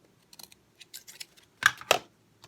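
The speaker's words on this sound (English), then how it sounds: "just trim those off carefully without cutting the edge of" Scissors snip through a paper flash card bag in a few light, quick cuts, ending in two sharper, louder snips close up in a quiet room.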